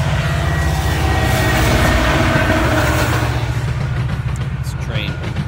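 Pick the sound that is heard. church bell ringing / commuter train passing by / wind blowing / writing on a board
commuter train passing by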